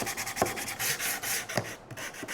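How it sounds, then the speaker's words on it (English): Sandpaper scuffs quickly across a wooden woodworking project in a string of close, soft rasping strokes with short gaps between them. "I'm going to give it a quick scuff sanding"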